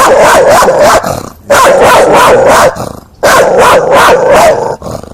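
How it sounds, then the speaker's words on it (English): An aggressive dog barks close and loud in three bursts of rapid, harsh barks, with short pauses between them. "this is an aggressive dog"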